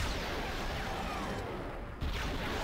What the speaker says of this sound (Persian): تو هر کدوم این سوراخ ها یک شلیک میکنم.